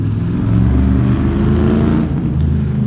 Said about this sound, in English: That motorbike's loud.